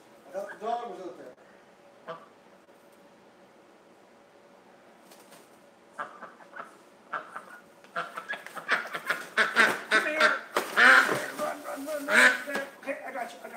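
A person talks near the start, then quiet, followed by a flurry of loud, rapid quacks and flapping-like bursts building toward the end.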